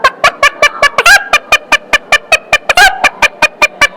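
A girl imitates a hen's call with a quick, rhythmic series of short clucks, about twenty sharp repeated bursts close and clear, with two longer squawks mixed in.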